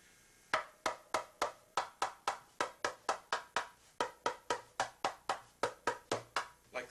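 Sharp, dry hand strokes on a darbuka, with a thumb or the edge of a hand pressed onto the head, repeat in a steady run of about twenty evenly spaced hits, each decaying quickly, close and alone.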